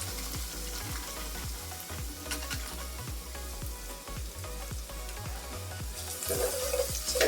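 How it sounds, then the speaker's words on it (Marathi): Biryani masala spices frying in a little oil in a pan, a low steady sizzle with regular scraping stirs and a rising watery hiss toward the end. "आता हे मसाले परतून घेते थोडंसं तेल सुटेपर्यंत हा मसाला शिजून घेते व्यवस्थित"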